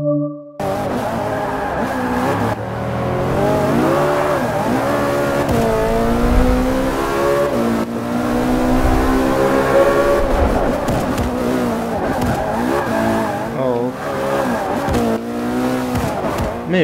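Race car engines in Forza Motorsport 5 rev and shift through rising and falling gear sweeps, with hard acceleration and brief tire squeal. The engines stay loud and close throughout, with occasional faint game sounds in between.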